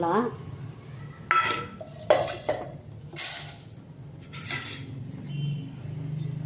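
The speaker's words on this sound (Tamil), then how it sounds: "இப்போ வந்து இது தண்ணியில் நம்ம போட்டு வாஷ் பண்ணிக்கலாம்." Clattering of a bowl and utensils with splashing water as flattened rice is rinsed, interspersed with brief clinks and a voice speaking softly.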